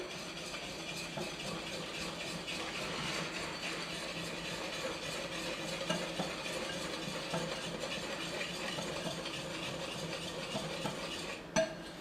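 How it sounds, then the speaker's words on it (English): A whisk moves steadily through sifted cocoa and flour in a bowl, giving a soft, continuous, rhythmic scratching that stays faint and even throughout, with a single small tap near the end. "After you've sifted the cocoa well, then you're just going to whisk it together."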